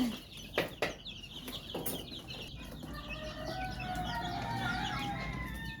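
Several fighting roosters and chickens cluck and chatter in a busy flock, close by, with a few sharp knocks early on and no voices.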